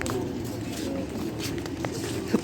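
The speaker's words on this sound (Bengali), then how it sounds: "দেখো আরো হাজার হাজার কবুতর এখানে।" Pigeons gathered in large numbers at a shrine site coo softly in repeated low throaty calls, close by over a steady outdoor background, with no speech.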